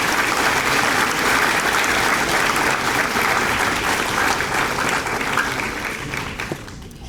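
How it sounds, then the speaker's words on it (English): A high school crowd at a Class of 2026 senior awards ceremony applauds graduating students with loud, sustained clapping that fades slightly toward the end. "Have another round of applause for these students."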